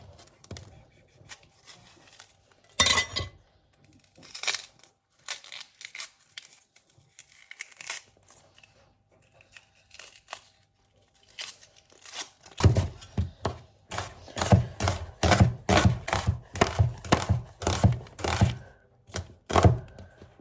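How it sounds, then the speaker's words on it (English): Onions being chopped with a knife for a quick one-pot pasta, giving sporadic cuts early on, then a fast, steady run of close, loud chops on a board toward the end, with no talking. "First thing I'm gonna do is just chop some onions."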